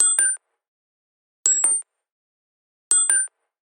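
Three identical short bursts of an extremely high-pitched synth sine wave driven through distortion and OTT, each a quick bright double ping with metallic overtones, spaced evenly about every 1.5 seconds with silence between.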